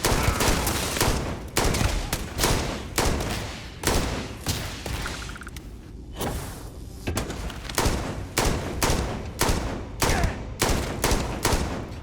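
Sustained gunfire from the video game Starfield, a dense run of loud, rapid shots in steady bursts through a cavern fight, with only a brief lull midway.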